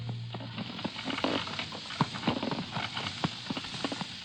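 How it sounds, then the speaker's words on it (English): Hooves of a donkey pulling a cart, made as a radio drama sound effect, clip-clopping in an irregular walking rhythm, close and moderately loud, with no one talking. "The driver of a donkey cart has given him a lift, and he's now on the last leg of the journey"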